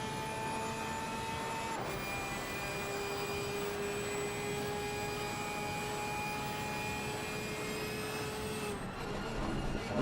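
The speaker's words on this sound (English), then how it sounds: "let's just listen to that flat 6 scream down the Bossa straightaway" A high-pitched Porsche flat-six engine whine in a racing video game at Imola holds steady at speed, with brief pitch shifts as gears change, a sustained distant-sounding scream without voices.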